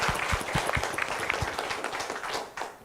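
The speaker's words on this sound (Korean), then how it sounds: "우리 한번 박수로 하면 어떨까요?" A church congregation at a 72nd anniversary thanksgiving service claps warmly for its elders, a steady crowd of hands with a few sharp, close claps standing out, fading toward the end.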